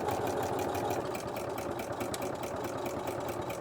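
A sewing machine top-stitching elastic onto a jersey seam runs in a fast, even mechanical chatter, faint and steady from start to finish.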